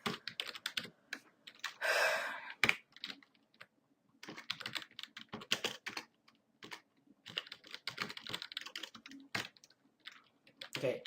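Someone types on a computer keyboard at a close, quiet level. Uneven bursts of key clicks run with short pauses, with a few heavier strikes mixed in.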